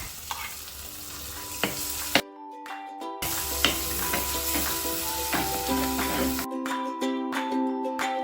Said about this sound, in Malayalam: ഇനി നമുക്ക് ഇത് നന്നായിട്ടൊന്ന് ഇളക്കണം.